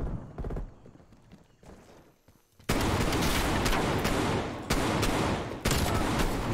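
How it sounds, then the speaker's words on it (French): Shotgun fire in Call of Duty Black Ops Cold War, a few spaced shots early, then dense, loud bursts of gunfire and action noise filling the rest. "Mais c'est quoi ce fusil à pompe"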